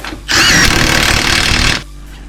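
A power tool, likely an impact gun or drill, tightens the bottom strut nut during a 1.5-inch lift kit install on a 2022 Subaru Impreza, making one loud continuous whirring burst of about one and a half seconds, close up.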